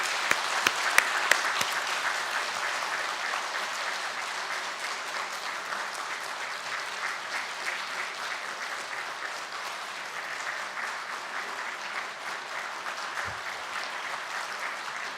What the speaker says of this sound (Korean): 여러분 앞길에 하나님의 은혜가 함께하길 바라는 마음으로 박수하겠습니다.